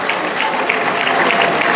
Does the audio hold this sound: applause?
yes